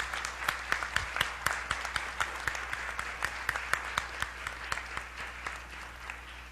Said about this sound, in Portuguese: Eu acho que merece uma salva de palmas.